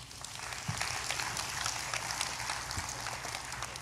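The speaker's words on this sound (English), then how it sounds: "Let's clap for that." An audience claps together at a live taping of a money and trading talk show, a steady, dense patter of applause that holds evenly for about four seconds with no speech over it.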